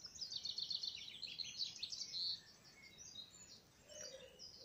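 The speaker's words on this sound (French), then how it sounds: "Je voulais vous faire entendre le chant des oiseaux dans mon jardin." Birds sing in a garden in France, bright repeated chirps and trilled phrases close by and fairly faint, with a quieter call near the end and no talk.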